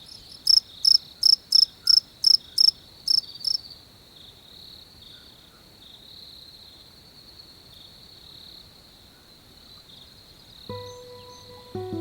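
Crickets chirping in a jungle: a loud, rapid run of about eight evenly spaced pulses in the first few seconds, followed by a steady high-pitched trill that continues on its own, with a low sound entering near the end.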